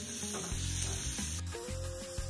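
Ingredients for a Kolhapuri dish roast in a pan with a close, steady sizzle, broken by repeated scraping and stirring strokes.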